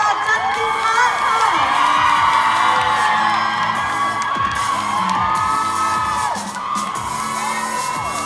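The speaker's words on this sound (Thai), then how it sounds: "ขอเสียงปรบมือต้อนรับเบ็คกี้รีเบคก้าแพทริเซียแอนด์สโตนและฟรีสโลชาจันทิพาค่ะ" Crowd at a Thai expo event clapping, cheering and shrieking in welcome, loud and continuous with excited high-pitched whoops and yells layered over the clapping throughout.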